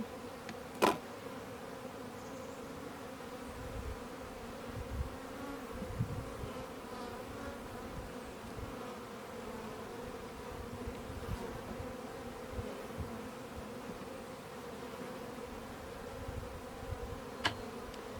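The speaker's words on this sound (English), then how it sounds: "I want to get these bees settled in and happy" Honeybees buzz softly and continuously as frames are lifted from a small cardboard box, a faint, even, close drone with occasional light knocks.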